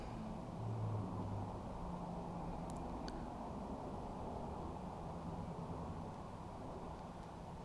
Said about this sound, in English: And the pump's still going